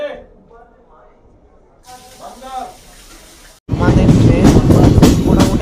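The Kolkata–Haldibari tri-weekly intercity express runs loud and near, with a steady roaring rush of wheels and wind that begins suddenly after a quieter stretch of faint voices and cabin noise.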